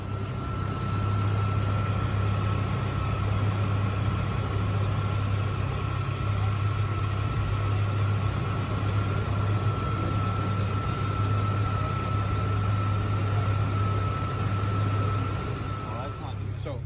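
A 1997–99 Chevrolet C1500 Suburban engine idles with its EGR valve partially open, giving a steady, continuous, close-up hum with a constant low drone and no rev changes.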